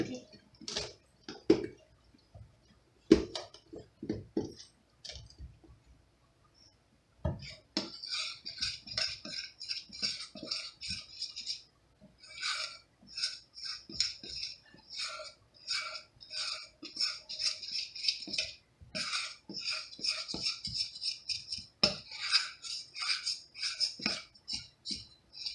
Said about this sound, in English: you're going to mix the oil in and then mix the milk in